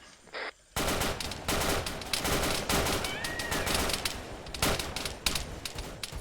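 Sustained suppressing gunfire in a Vietnam War video game, a dense, loud barrage of overlapping rifle and machine-gun bursts rattling continuously after a brief quiet start.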